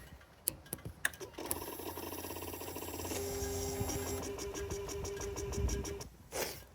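A Suzuki GSX1250FA motorcycle in neutral, spitting out coolant, makes a few sharp clicks, then a steady run of quiet rhythmic thudding pulses with a tonal whine, ending in a brief louder knock.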